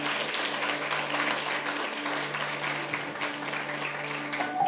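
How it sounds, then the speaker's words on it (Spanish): A congregation at a church service claps together after a scripture reading, a steady wash of applause over a low sustained tone, moderately quiet and continuous. "Un aplauso a esta escritura."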